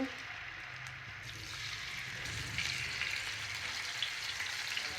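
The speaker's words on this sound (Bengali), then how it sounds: "এই যে মাছটা ভেজে নেব" Fish fries in oil in a wok, a soft, continuous sizzle and crackle that swells slightly partway through, heard fairly quietly with no speech.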